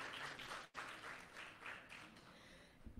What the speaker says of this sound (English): Give her a clap. Give her a nice clap.